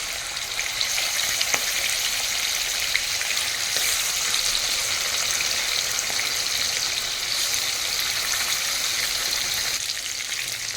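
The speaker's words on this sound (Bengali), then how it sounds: "একইভাবে বাকিগুলো ভেজে নেব।" Chicken pieces deep-frying in oil for a murgh musallam dish, a steady dense sizzle that holds evenly throughout with faint occasional clicks, close up and with no talking.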